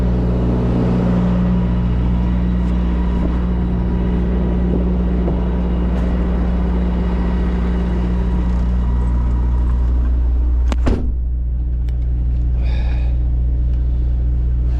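A truck pulls a trailer up to a loading dock, its engine a loud, steady low rumble close by, broken near the end by a brief sharp hiss or air release before the idle carries on.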